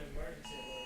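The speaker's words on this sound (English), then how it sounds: "We got an emergency alert." Phone emergency alert tone for a flash flood warning, a steady high electronic beep that cuts in abruptly halfway through and holds, loud over a low room background with people talking.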